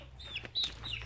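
A chicken gives a couple of short, high clucks, heard close and fairly loud in a brief burst.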